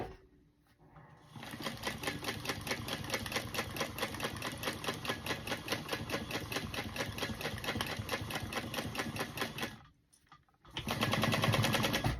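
Sewing machine basting down the side of a wallet card slot, a fast steady mechanical rattle of stitching close by, pausing briefly near the end before starting again.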